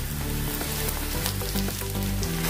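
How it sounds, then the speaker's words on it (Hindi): Crushed ginger-garlic paste fries in a pan with softened onions for a spinach and radish curry, giving a loud, continuous sizzle with a few scraping stirs. "अभी इसमें हम अदरक लहसुन का कुटा हुआ पेस्ट डालेंगे।"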